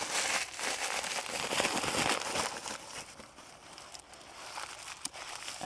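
Paper crumpled by hand while making a journal cover with Mod Podge, a steady crinkly rustle with faint crackles, close and continuous without talk.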